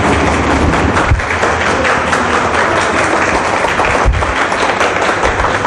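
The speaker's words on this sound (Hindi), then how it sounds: "देखिए तालियां भी बजना शुरू हो गई है" Newsroom staff cheering the Chandrayaan 3 lunar landing clap loudly and close, a continuous dense burst mixed with thumps and taps.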